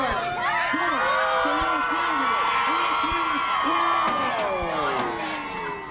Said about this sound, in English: Oh, he's making the crowd go wild here.